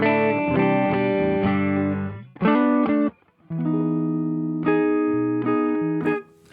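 A Warmoth electric guitar plays a clean tone through a Seriatone OTS Mini 20 amp: ringing chords and single notes sustain and change in a loose sequence, with a brief pause midway and no talking.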